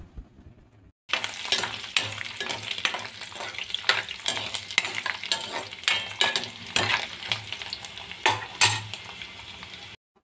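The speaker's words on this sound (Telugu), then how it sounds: "ఇవన్నీ కొంచెం వేగనివ్వాలి" Shahi jeera and whole garlic cloves fry for mutton curry, a steady loud sizzle with scraping stirs and clinks of a utensil against the pan, starting after a brief quiet moment.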